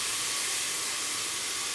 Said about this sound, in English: So we put soya sauce, whichever brand will be good